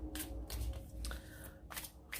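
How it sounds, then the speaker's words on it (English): Tarot cards are shuffled in a few quick riffling bursts, close and fairly quiet, with short pauses between them. "Sometimes I shuffle with the cards face down, sometimes I shuffle with them face up."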